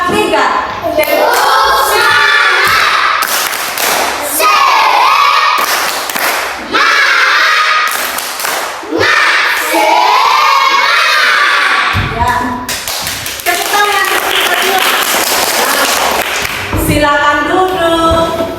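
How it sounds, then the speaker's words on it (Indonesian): Schoolchildren in an Indonesian classroom do a rhythmic group spirit clap, sharp bursts of clapping in patterned beats, mixed with loud chanting voices and shouts that fill the room. "Kita tepuk semangat ya"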